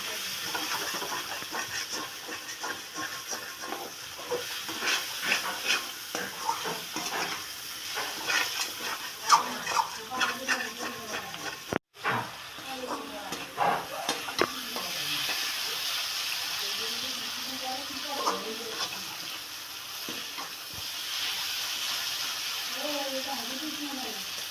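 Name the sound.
spices frying in a pan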